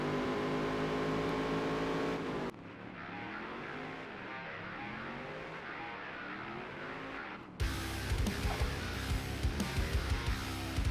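Featherlite Modified race cars roar around the track in the Dirt to Daytona racing game. Engines drone and rev steadily, with a muffled stretch before the sound snaps back to a loud, rough roar.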